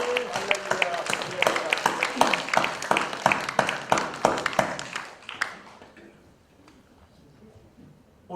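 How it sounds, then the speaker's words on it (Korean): Congregation at a Wednesday worship service claps together in thanks, a loud run of dense, rapid applause that tapers off and fades to near quiet by the end. "우리 하나님께 한번 감사의 박수 한번 심차게 드리겠습니다"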